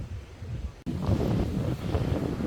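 Sea wind buffets the microphone near cliffs by the coast, a steady low rush with a brief dropout, then waves surge and wash in underneath, no voices heard.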